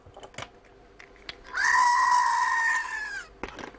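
A battery-powered toy goat bleats one long, steady electronic bleat lasting nearly two seconds, loud and close, with faint clicks and handling noise before and after.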